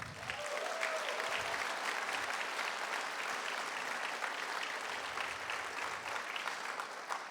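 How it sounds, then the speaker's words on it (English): An audience at a Texas Republican governor's debate event claps in sustained, even applause that fills the room from start to finish, with no talking over it. "I want to give him a round of applause."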